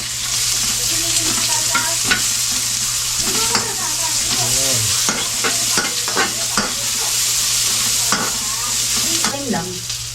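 Sliced onion sizzling in hot oil in a home kitchen pan, a continuous fry hiss with repeated scraping stirs, while people chat nearby.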